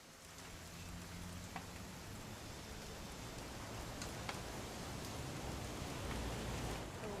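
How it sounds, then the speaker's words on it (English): Steady rain falls in What Remains of Edith Finch, a soft, even hiss of drops on surfaces with a few faint patters standing out, quiet and continuous. "It's gonna rain the whole weekend,"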